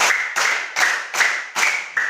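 Schoolchildren in a classroom clap in unison, a regular run of sharp group claps spaced under half a second apart, each one loud and bright with a quick decay.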